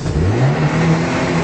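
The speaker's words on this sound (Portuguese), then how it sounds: "Tião, dá uma bombadinha aí no motor pro pessoal em casa sentir o drama." A car engine revs up at a used-car dealership, a steady, loud mid-low drone rising and holding for a moment, close by, with no talking.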